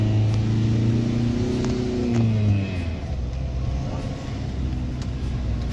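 A minibus drives during a brake test after fitting new brake pads, its engine giving a steady loud low rumble throughout with a rising and falling tone, no voices.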